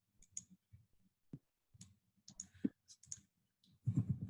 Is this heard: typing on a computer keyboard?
yes